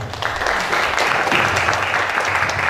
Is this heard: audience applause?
yes